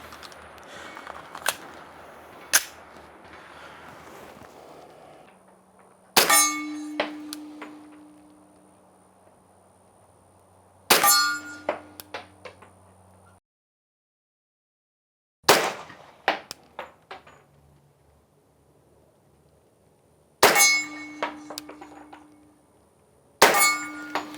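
An HK45 Tactical pistol fires Federal low recoil 165 grain Hydra-Shok rounds, giving about seven sharp, loud shots spaced several seconds apart, each followed by a ringing metallic decay with no talking.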